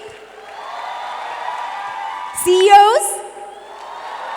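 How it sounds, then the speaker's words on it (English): Conference audience cheering a students' team at a closing plenary contest, a steady wash of crowd applause with a brief louder whoop or shout rising in the middle, while a voice speaks over it. "Cheer on the students. Let's hear it for the students team."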